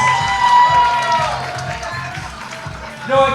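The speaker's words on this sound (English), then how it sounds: "Give them a roaring round of applause." A crowd at a 50th celebration applauds and cheers after a dance performance, with lively clapping and shouts under loud, close talk throughout.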